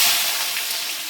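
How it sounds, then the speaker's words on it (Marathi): Onions and cumin seeds sautéing in a pan for methi paratha filling, a bright, close, continuous hiss and crackle that fades slightly over a brief moment. "आता आपण याच्यात थोडंसं जिरं टाकू आणि कांदा चांगला परतून घेऊ"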